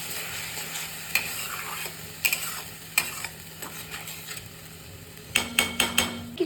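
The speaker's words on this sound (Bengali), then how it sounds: "এবারে খুব ভালো করে মিক্স করে নেব।" Spice paste being stirred and mixed in a hot pan for paneer malai kofta, with a steady low sizzle under repeated scraping clicks of a utensil against the pan that grow quicker and busier toward the end.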